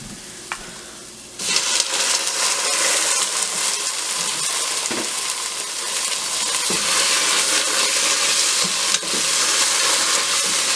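Spinach drops into a hot pan of sweated onion and garlic and a loud, steady sizzle bursts up, hissing continuously with occasional stirring clicks and no voices.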